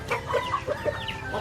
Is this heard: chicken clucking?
yes